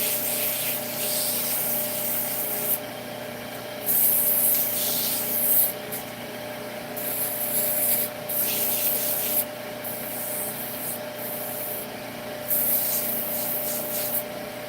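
Sanding small wooden bowls spinning on a woodturning lathe, a steady hissing abrasive rush that swells and eases in repeated passes over a constant motor drone.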